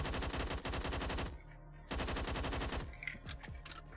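Automatic rifle fire from an AUG A1 in the Roblox shooter Phantom Forces rattles in rapid bursts, with a brief pause and then another long burst followed by scattered shots.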